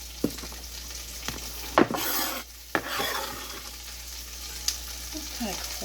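Cabbage cooking down in a pot for curry, a low sizzle broken by a few sharp clanks and scrapes of a utensil against the pot, with brief bursts of louder frying.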